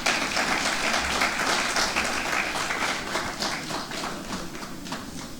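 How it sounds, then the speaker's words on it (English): Audience applause at a conference opening ceremony, a dense, steady clapping from a large crowd that holds at an even level for several seconds. "Another round of applause for him."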